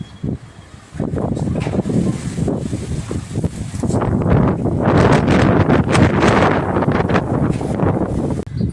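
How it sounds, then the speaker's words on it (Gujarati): Strong storm wind roars and buffets the microphone in heavy, rumbling gusts during rain, growing louder after the first second and staying intense throughout. "પવન તો અતિશય છે."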